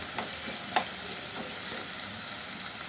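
Onions frying in a pan as the base for a spicy coastal dry fish curry, a soft steady sizzle with a few clicks of stirring, close and fairly quiet, no voices.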